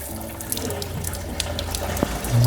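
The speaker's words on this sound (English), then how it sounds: "What we're looking for is just a nice, steady, clean stream coming out." Water streams steadily from an RV faucet on a Winnebago View or Navion 24T, flushing antifreeze out of the lines during de-winterizing; a continuous close splashing hiss runs throughout with no talk.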